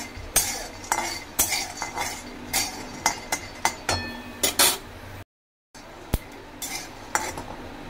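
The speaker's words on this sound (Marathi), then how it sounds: "बघा शेंगदाणे किती छान आणि मस्त भाजतायत" Raw peanuts dry roasting in a hot wok, stirred with a metal spoon that scrapes and clinks against the pan in repeated sharp strokes, fairly close, with a short silent gap partway through.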